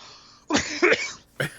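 Two or three harsh coughs: a strong double burst followed by a shorter single cough after a brief pause, fairly close.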